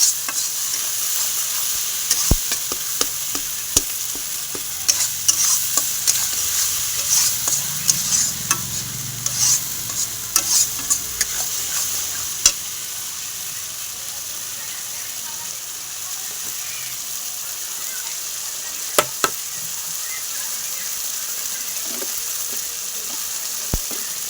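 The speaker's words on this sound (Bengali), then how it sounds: "আদা বাটা, রসুন বাটা, টমেটো বাটা দিয়ে এটা ভালো করে মশলাটাকে ভেজে নেব।" Ginger, garlic and tomato paste masala fries for fish curry, with a steady broad sizzle and repeated scrapes and stirring knocks of a spoon in the pan. The stirring comes in bursts over the first half, then eases off.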